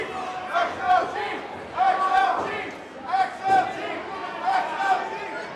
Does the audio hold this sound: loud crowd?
yes